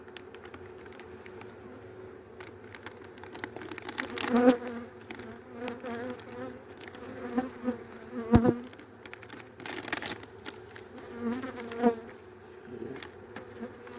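Honeybees hum and drone close by around a hive during a December hive check, the buzz rising and falling as individual bees pass near, with occasional soft knocks and rustles.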